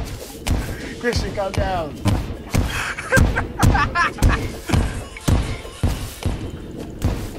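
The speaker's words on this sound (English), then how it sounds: "Hey, I am using these fucking bombs." Bombs going off in the Terraria video game, a string of repeated thumping blasts at a fairly regular rhythm, loud and close, with a voice talking over the early ones.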